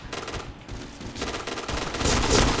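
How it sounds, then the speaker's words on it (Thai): Shotgun blasts from an M1887 lever-action shotgun in the Point Blank online shooter, loud and dense with overlapping gunfire, building to a heavy burst near the end. "กูขอโทษปืนมันลั่น"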